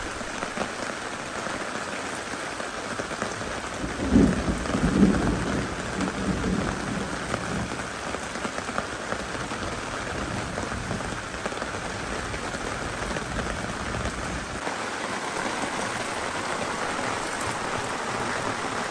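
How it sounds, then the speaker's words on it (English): Steady rain falls during a thunderstorm at a lake campground, a continuous dense patter with a low rumble of thunder rising briefly early on and distant rolling underneath. "The rain did sort of put my campfire out, though."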